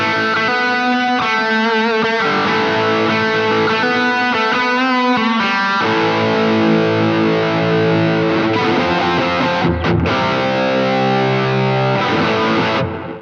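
Electric guitar chords ringing out with heavy reverb and distortion, notes washing into one another, loud and sustained with no voices.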